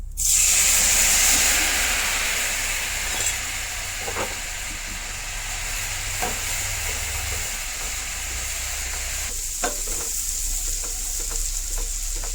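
Spice paste frying in oil in a pan for a rich gravy, a loud close sizzle that starts with a burst and settles into a steady crackling hiss, with occasional spoon scrapes and no voices.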